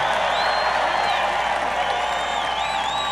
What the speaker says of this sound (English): This is a hell of a crowd.